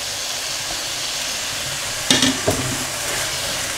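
Vegetables go into a hot pan of masala for quick masala rice, sizzling with a steady hiss, followed by a couple of sharp clatters as they are stirred, close and alone.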